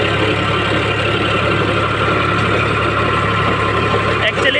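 Eicher 551 tractor running in first low gear with a rotavator, a loud, steady diesel engine drone up close throughout, with a voice talking over it.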